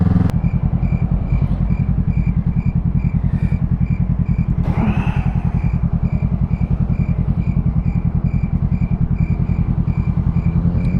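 A Honda CB motorcycle engine rumbles steadily close by as it passes, with a constant throbbing idle-like drone, a brief rising rev in the middle, no talking.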